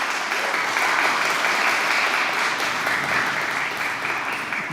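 Audience applauding a speaker at an event about artificial intelligence, dense steady clapping from a crowd for several seconds, fairly loud and even throughout.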